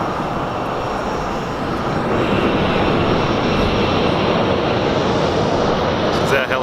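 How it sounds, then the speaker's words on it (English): Helicopter engine running near a Grand Canyon pad before a ride, a loud, steady broadband roar and rumble filling the whole stretch, with people talking over it. "This is us preparing for a helicopter ride."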